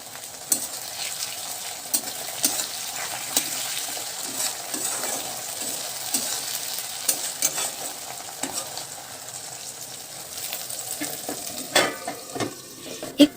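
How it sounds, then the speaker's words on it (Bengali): Tomatoes fry in a covered pan while cooking katla kalia, a soft continuous sizzle broken by repeated scraping and stirring knocks of a utensil against the pan, close and moderately loud. "টমেটোটা ভাজা হওয়ার সাথে সাথে টমেটোটা তাড়াতাড়ি নরম হয়ে যাবে"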